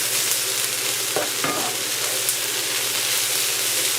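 Garlic stirred in a hot pan, loud continuous sizzle with a couple of brief scraping stirs, close and steady.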